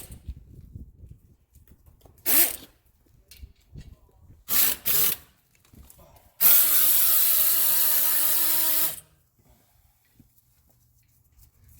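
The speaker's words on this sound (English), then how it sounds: "So I'm loosening the lower brake caliper bolt" Lower brake caliper bolt being loosened on a 2011 Acura MDX with a tool, a few brief ratcheting bursts followed by a louder sustained whirring run of about two seconds, close up, with quiet gaps between.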